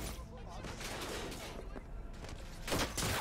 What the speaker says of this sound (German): Ich muss nur auf sie schießen.